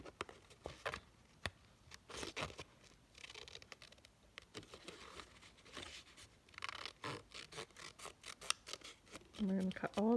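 Scissors snip through card for a Christmas card kit tree shape, giving repeated short crisp cuts at an uneven rhythm, close and fairly quiet, with brief soft speech near the end.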